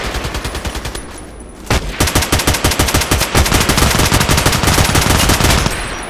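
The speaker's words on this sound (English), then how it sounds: "I shot about 10, 15 times on that guy" An AK-12 assault rifle fires in Contract Wars, loud and close: a short burst, a brief pause, then a long sustained stream of rapid automatic shots.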